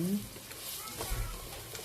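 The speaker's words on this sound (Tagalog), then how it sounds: "gisa-gisa nyo lang yan, halu-haluin nyo hanggang sa mag- translucent na siya" Food sautéing in a pan for a home-cooked lunch, a soft steady sizzle with light stirring scrapes, close and fairly quiet while someone talks.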